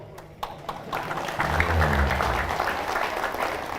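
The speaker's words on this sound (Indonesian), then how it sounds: "Nah, baru tepuk tangan." Applause from the congregation at an Islamic sermon by Ustaz Abdul Somad, starting with a few scattered claps and swelling into steady clapping that holds, with a low rumble of crowd noise beneath.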